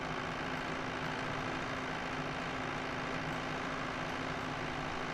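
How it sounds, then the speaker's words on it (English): A tractor engine idles in an Unreal Engine 5 game scene, a steady, dense, low mechanical drone that stays even and moderately quiet throughout with no voices. "I'm totally stuck in this tractor."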